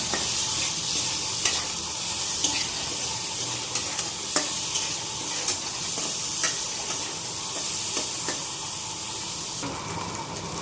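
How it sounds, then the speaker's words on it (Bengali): Small potatoes frying with salt and turmeric give a steady close sizzle, marked by occasional sharp scrapes and clicks of a spatula stirring in the pan, and no talking. "আলু ভাজা হয়ে গেছে"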